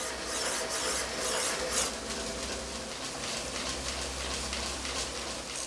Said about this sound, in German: Die Maschine lässt sich über den Bandlauf und den Armhebel in Gang setzen.